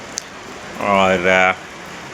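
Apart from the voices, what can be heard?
rain falling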